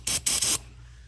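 DeoxIT D5S contact cleaner sprayed from an aerosol can onto a car battery cable and terminal: two close, loud hissing bursts, a short one followed by a longer one, then quiet.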